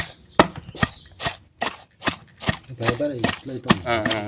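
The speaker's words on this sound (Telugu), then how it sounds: "దీన్ని కచ్చా బిచ్చ దంచి పడేస్తా" Raw tamarind chutney being pounded coarsely by hand: a steady series of about ten sharp, close thuds, roughly one every half second, while a person talks throughout.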